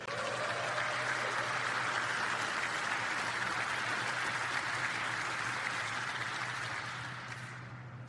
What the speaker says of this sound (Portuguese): Uma grande salva de palmas para a equipe do Raptor por isso.